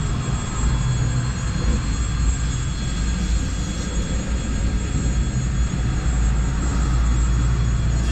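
A diesel locomotive train rolls past a railroad crossing near Vyborg, a steady broad rumble and roar that holds at even loudness for several seconds, heard close from a vehicle with no talk.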